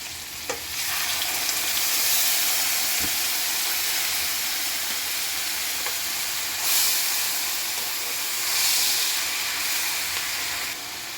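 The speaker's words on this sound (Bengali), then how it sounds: "এখন আমি এর ভেতরে পেঁয়াজ বাটাটা দিয়ে দিচ্ছি" Onion paste hits hot oil for a prawn curry with a loud, sustained frying hiss that swells in places, punctuated by a few faint clicks of a spoon, with no voices.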